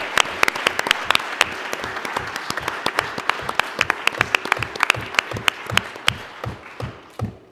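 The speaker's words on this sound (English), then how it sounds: "I think we should all give some applause" A lecture-hall audience at a Harvard Law School celebration applauds in a sustained, dense clapping burst, with sharp individual claps standing out before it tapers off.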